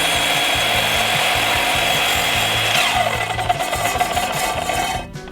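A hand saw cuts through timber with steady, rapid rasping strokes, loud and close, in a continuous run that thins out at the very end.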